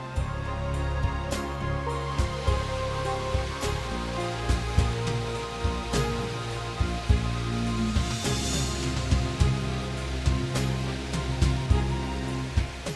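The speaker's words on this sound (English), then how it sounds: "A Woma pump was employed as the electrically operated high-pressure water pump." Electrically driven Woma high-pressure water pump in a soundproof housing, working at up to 1000 bar while cleaning a crucible mold: a steady, loud roaring water-jet wash with intermittent knocks and clatters, no talking.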